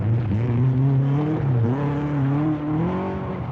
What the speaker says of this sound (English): feel those rocks and boulders beneath the car